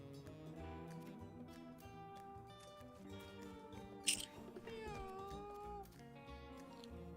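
A cartoonish cat meows in the Mewgenics cat battling game, short voiced calls sounding over a quiet melodic game soundtrack, with one louder sharp burst midway.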